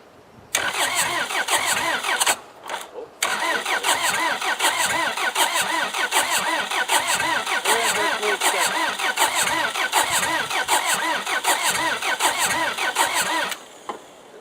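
A car engine cranks on a cold start and fails to catch, the starter whirring in a steady rapid rhythm with one brief pause, loud and close.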